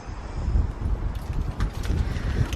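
Wind buffets the microphone at a house renovation site among double brick walls, giving a steady low rumble with gusting surges and faint rustling, no voices.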